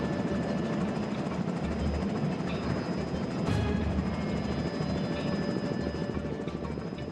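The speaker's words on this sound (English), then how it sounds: "We get helicopter airlifting." Helicopter hovering close by during astronaut sea survival training, a steady loud rotor thrum and engine whine that fills the whole stretch without letup.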